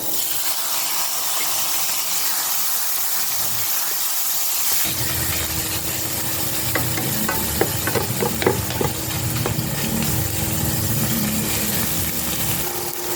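Chopped onions and tomatoes frying in a hot pan, a steady loud sizzle that jumps when the tomatoes drop in, followed by crackling bursts and scraping stirs continuing throughout.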